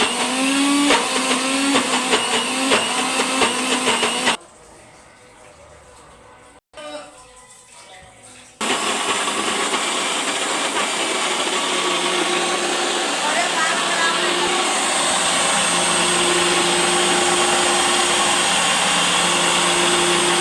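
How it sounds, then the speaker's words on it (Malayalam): A kitchen mixer grinder whirs loudly as it blends a chocolate milkshake. It runs in a long, steady whining stretch, stops for a few seconds, then starts again and keeps spinning. "ഇനി നമുക്ക് മിക്സിയിലോട്ട് ഇതെല്ലാം സെറ്റ് ചെയ്തിട്ട്"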